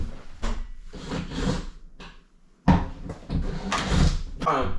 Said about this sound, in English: He then puts the door back in the opening.